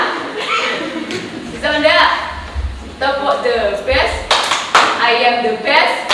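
Pupils in a classroom clap their hands in a rhythmic chant, the sharp claps mixed in and out of their group chanting voices.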